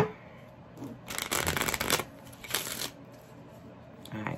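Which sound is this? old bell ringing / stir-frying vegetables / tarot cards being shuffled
tarot cards being shuffled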